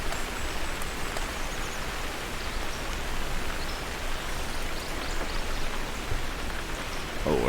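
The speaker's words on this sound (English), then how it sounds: "it's raining on my head out here now" Steady rain hisses outdoors on a cold, windy day, a dense and continuous wash of close patter with no breaks.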